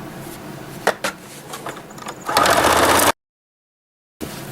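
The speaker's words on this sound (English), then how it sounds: "So I'll turn right sides back together and finish sewing around the toe." Fabric for a boot-shaped Christmas stocking is handled with a few clicks and knocks, then a sewing machine runs a steady buzzing stretch around the toe before cutting off abruptly, with no speech.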